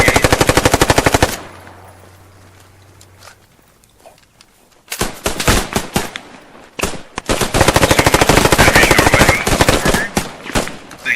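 Machine gun fire in the World War II shooter game Post Scriptum, long loud rapid bursts close by with a brief quieter lull between them and no voices.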